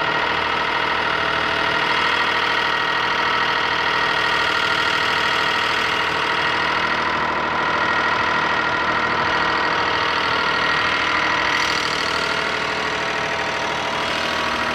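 A natural-gas-fuelled cogeneration engine coupled to an alternator runs steadily for the whole stretch, a close, continuous mid-pitched drone with a knocking, idling texture and no voices.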